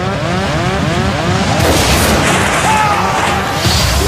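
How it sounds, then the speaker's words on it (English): An airliner's cockpit windscreen blows out at about 17,300 feet with a huge explosion, heard as a loud, dense roaring blast that carries on steadily for about four seconds. "With a huge explosion, the captain's windscreen blows out into the sky."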